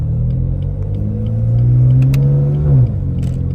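Tuned BMW F80 M3 engine pulling at full throttle, a loud close rumbling drone whose pitch climbs steadily over about three seconds before easing off, with no talking.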